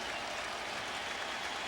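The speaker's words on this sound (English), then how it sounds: "Cardinal fans standing, applauding, loving what they've seen today" St. Louis Cardinals fans at a baseball stadium stand and applaud during a Phillies game, a dense, steady wash of clapping from a large crowd at some distance, with no voices over it.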